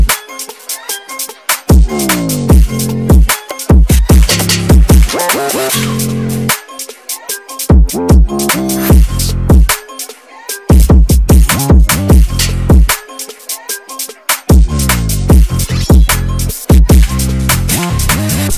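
Persian-flavoured drill beat built in FL Studio, with sliding 808 bass, skittering hi-hats and an ethnic melody, loud and continuous with brief drop-outs between phrases.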